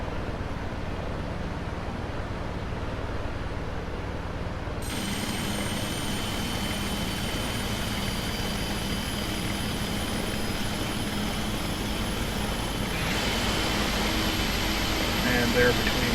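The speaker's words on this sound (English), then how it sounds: "And there between the nose gear you can see engine number 1 starting to spin up." Engine 1 of a PMDG 777 airliner in the Prepar3D flight simulator spins up, a steady airy turbine roar with rising whines, heard under someone talking.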